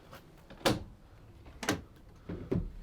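The twin solid rear doors of a 2016 Ford Transit Custom van make three separate clunks and rattles, spaced about a second apart, close by with quiet between them.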